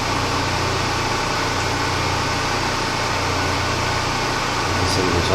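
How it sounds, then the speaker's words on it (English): Small 1940s lathe running while pecking a drill into a hole, a steady close mechanical hum with a faint high whine, continuous and unchanging throughout. "So this small 1940s lathe, we want to be easy on it."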